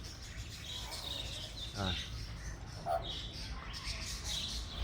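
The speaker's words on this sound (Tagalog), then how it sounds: "Parrot. Electos parrot. Electos parrot." Eclectus parrots call at a bird park in short, sharp chirps and squawks over steady outdoor background noise, with a brief voice heard once.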